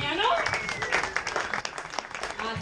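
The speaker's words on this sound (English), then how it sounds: "You can get a round of applause for our panel." An audience at a tech panel discussion on AI and machine learning breaks into a steady round of applause, clapping loudly throughout with voices and a whistle mixed in.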